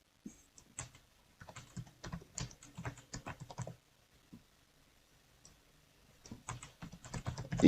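Close, quiet computer keyboard typing comes in uneven bursts of clicking keystrokes, with a long pause in the middle.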